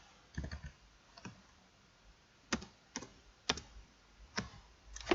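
Keys on a computer keyboard are pressed in a few scattered bursts of crisp, close clicks, quiet overall with short gaps between strokes and no talk.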